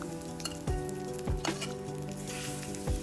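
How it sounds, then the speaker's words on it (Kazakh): Hot oil sizzles steadily over ground paprika, hot pepper and sliced garlic for a chili dressing, with a few sharp knocks of a utensil against the bowl near and fairly loud, no talk. "ыссы қайнап тұрған майды үстіне құямыз"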